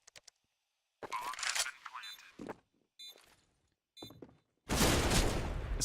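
Counter-Strike match on the Overpass map: bursts of gunfire crack out in separate clusters with short gaps between them, ending in a denser, louder volley, while a commentator's voice runs underneath.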